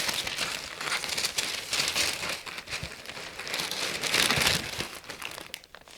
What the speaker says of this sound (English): excuse the rustling, but sound of fresh tissue paper being unwrapped.